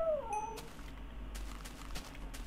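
A cat in the video game Minecraft lets out a single short meow at the start, fairly near, followed by faint clicks and ambient game noise.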